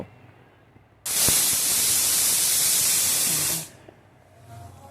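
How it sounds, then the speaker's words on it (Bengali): A pressure cooker boiling banana flower with salt and water lets out a loud, continuous hiss of steam for about two and a half seconds, then cuts off abruptly, leaving faint background noise. "দিয়ে দিলাম পরিমাণ মতো নুন আর জল দিয়ে আমি এখানে দু তিনটি সিটি দিয়ে মোচাটা আমি সেদ্ধ করে নেব"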